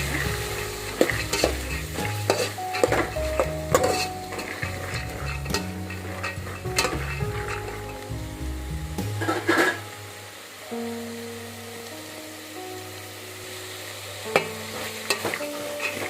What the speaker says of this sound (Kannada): ಇದು ಸ್ವಲ್ಪ ಅರಿಶಿನ ಹಾಕ್ತಾ ಇದ್ದೀನಿ. ಅರಿಶಿನ ಚೆನ್ನಾಗಿ ಫ್ರೈ ಮಾಡೋಣ.